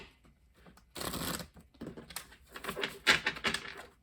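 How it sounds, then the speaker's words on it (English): Tarot cards being shuffled in several quick bursts, close and fairly quiet, with crisp riffling flutters and small pauses between them. "Let me do one more little shuffle."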